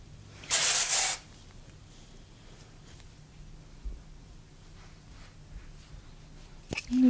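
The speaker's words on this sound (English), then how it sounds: "I have the Virtue texturizing spray, and it's a super light spray." A short, sharp hiss of aerosol texturizing hair spray lasting about half a second, close by, followed by quiet handling noises.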